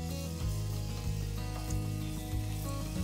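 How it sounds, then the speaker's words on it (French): Chopped onion browns in a frying pan with a steady, soft sizzle under a low hum, even and unbroken with no talking. "Dans une poêle, je fais blondir l'oignon"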